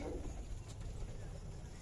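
A racing pigeon chick on a pigeon farm gives soft, low cooing, faint and close amid quiet background noise, with the murmurs running together over a couple of seconds.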